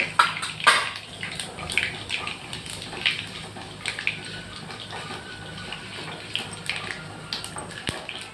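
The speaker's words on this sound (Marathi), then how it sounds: "आता बघू शकता तुम्ही आवाज येतो तडकड तडकड सगळं गरम झालं आहे" Spices crackle and spit in hot oil while being tempered for a methamba raw-mango dish. The steady frying hiss is dotted with small, sharp pops throughout, heard close by and without talk.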